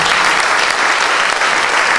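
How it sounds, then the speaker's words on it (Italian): A crowd of listeners claps loudly and continuously, dense applause close by, with a voice faintly audible underneath. "Applauso Marcello."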